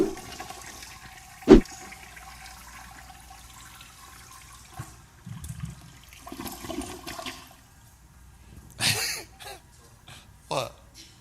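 A toilet flush swells and rushes near the end, following scattered bumps and low murmurs of voices in a room.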